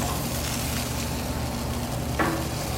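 Salmon sizzling on a grill, a soft steady hiss and crackle at low volume with a faint brief scrape near the end, no talking.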